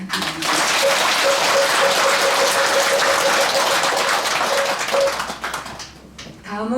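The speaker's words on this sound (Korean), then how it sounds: "귀한 말씀을 해주신 덕일주 스님께 큰 박수 부탁드립니다." A temple congregation gives a big round of applause after a monk's sermon, dense and steady clapping for about five seconds that quickly tapers off, with a faint tone ringing underneath.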